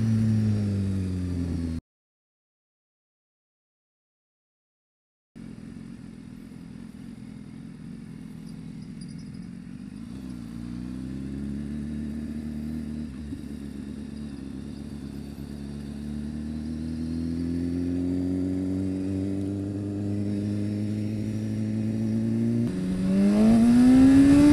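A 2015 BMW S1000RR motorcycle revs while being ridden. After a brief cut, the engine drones steadily, then climbs in pitch toward a sharp rev at the end.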